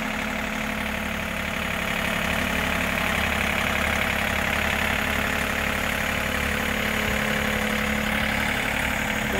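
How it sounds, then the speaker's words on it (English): John Deere 4105 compact tractor fitted with a 66-inch grapple, its engine running steadily and loud nearby with a constant rumbling drone and a fine rapid knock throughout. "Here we are today with this 4105 John Deere with a 66-inch grapple."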